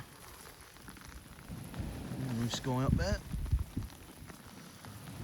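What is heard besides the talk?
rain falling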